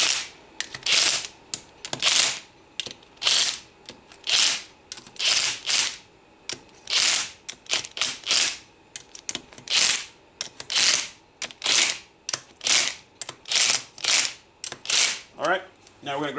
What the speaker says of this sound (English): now we're just going to run these down with the impact lightly